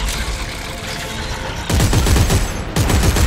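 Rapid gunfire in Dead Space 3 aimed at a monstrous enemy, loud close bursts of shots after a dense noisy stretch, two quick volleys near the end.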